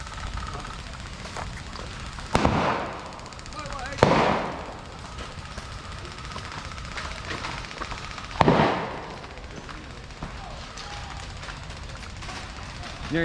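Airsoft guns fire during an outdoor game: a few sharp, scattered cracks at irregular intervals, some close and some farther off, against background ambience and quiet talk.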